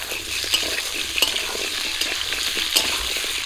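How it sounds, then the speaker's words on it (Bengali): Elephant foot yam fries with onion and green chilli in a pan, giving a steady close sizzle punctuated by repeated scraping stirs of a spatula. "ধুয়ে রাখা ওল দিয়ে দিচ্ছি।"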